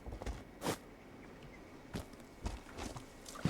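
Video game footsteps in Unreal Engine crunch over dirt and rocks, spaced and irregular, each step gritty and fairly close.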